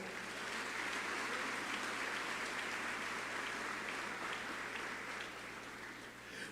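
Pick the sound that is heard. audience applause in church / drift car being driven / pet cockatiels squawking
audience applause in church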